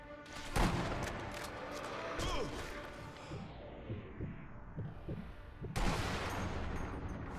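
Sniper rifle shots in Sniper Elite V2, a few heavy booming reports with low thuds between them, up close and mixed with game effects.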